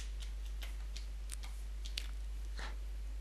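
A clock ticks in a Minecraft game: light, regular clicks repeating about every third of a second over a low constant hum.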